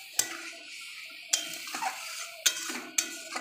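A spoon stirs boiled hog plum pulp in a metal pot, giving four sharp clinks and scrapes at irregular intervals with soft wet stirring between them, close and fairly quiet.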